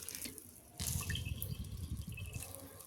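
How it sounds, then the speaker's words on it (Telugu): Water squeezed from soaked soya chunks splashes and trickles into a bowl, a steady wet dribbling with a few louder gushes, close and fairly quiet. "ఇలా పిండుకొని ఒక బౌల్లో వేసుకుందామండి దీంట్లో ఉండే ఎక్స్ట్రా వాటర్ అంతా వచ్చేస్తుంది"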